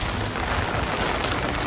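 Steady, dense rain hissing on surfaces, a constant broadband wash with no pauses or voices.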